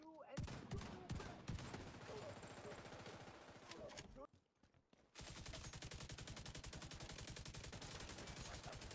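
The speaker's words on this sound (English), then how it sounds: "How you like machine gun, bitch?" Machine gun fire in the video game The Division 2: loud, rapid, sustained bursts of automatic gunfire, a brief quieter gap, then a long continuous stream of rattling shots.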